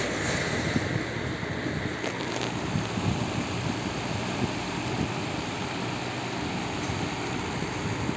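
A table fan with a newly replaced gearbox oscillates while running, giving a steady, close broadband whoosh of airflow and motor noise with no pauses and no talk.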